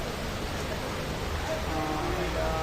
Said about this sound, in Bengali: আর এখন বৃষ্টি, প্রচণ্ড পরিমাণ বৃষ্টি হচ্ছে